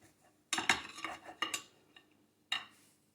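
A knife cutting into a soft vanilla cake on a plate, a few short scraping clinks of metal on crockery, close and clear, with a final clink after a pause.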